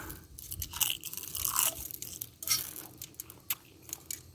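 Crispy pan-fried Grand Manan dulse seaweed crunching close up, with a run of sharp, dry crackles and crunches in bursts over a few seconds.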